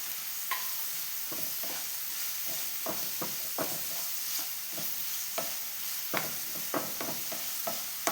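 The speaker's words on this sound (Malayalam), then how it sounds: "നമുക്ക് ഇഞ്ചി വെളുത്തുള്ളി ഇവിടെ ചതച്ച് വെച്ചിട്ടുണ്ട് അതും കൂടി ഇതിൻ്റെ അകത്തേക്ക് ഇട്ട്" Crushed ginger and garlic sautéing in a pan, a constant oily sizzle and hiss punctuated by a steady series of sharp spatula scrapes and stirs, close and clear with no talking.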